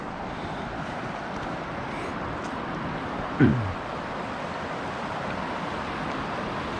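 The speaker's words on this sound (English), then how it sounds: "hearing that sound of the waterfall" A waterfall along the Slippery Rock Trail at Mill Creek Park in Youngstown gives a steady, broad rushing roar with no breaks, and a single brief knock sounds about halfway through.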